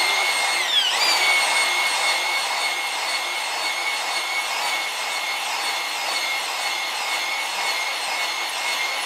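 A drill spins a cylinder hone at about 600 to 700 RPM inside a Honda motorcycle engine cylinder, with a high whining tone and rough abrasive scraping, continuous and close, pitch shifting briefly near the start.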